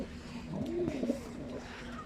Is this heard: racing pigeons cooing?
yes